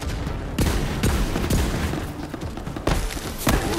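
Rapid video-game gunfire in Borderlands 3, loud bursts of shots and booming impacts in quick succession, close and continuous with brief pauses.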